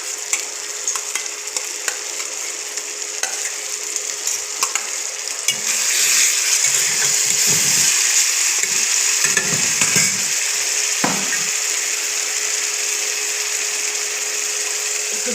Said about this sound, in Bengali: এবার এই আদা বাটা, রসুন বাটা আর টমেটো পিউরিটা দিয়ে দেবো